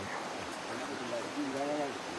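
A river in the Royal Belum forest near Sungai Kejar flows with a steady, close rushing hiss during a stop to refill water, while faint voices come through briefly near the end.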